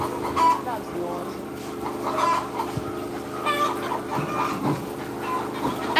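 Layer hens cluck and chatter continuously, with rooster-like calls rising now and then over a busy coop background, fairly close and steady throughout.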